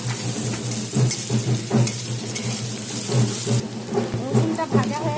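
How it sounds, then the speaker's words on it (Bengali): Garlic and onion fry in hot oil in a pan for a fish-head curry, a steady sizzle with repeated stirring knocks and scrapes up close, a voice talking faintly at times. "রসুনটা ভাজা হয়ে গেছে।"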